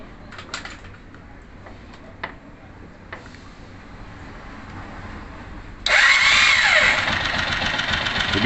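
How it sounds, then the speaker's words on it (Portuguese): A 2002 Honda CG Titan 125 KS motorcycle engine starts abruptly about two-thirds of the way in and settles into a loud, steady idle close by, preceded by quiet ticking and light clicks. "Então agora eu vou ligar a motocicleta aqui"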